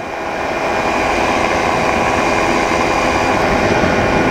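Flylight ADAM microlight aircraft engine droning loud and close during the climb after takeoff, a steady rough roar mixed with wind rush throughout.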